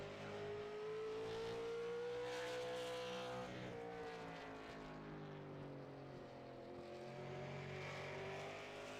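Race car engine droning steadily as the car laps a short track in an Intensity Racing League short track series race, loud and continuous with shifting pitch throughout, no talk.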